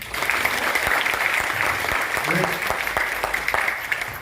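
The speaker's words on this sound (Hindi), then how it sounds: "तालियां हो जाए सबके लिए।" An indoor audience at a business team meeting gives sustained, dense applause, many hands clapping steadily and evenly for several seconds.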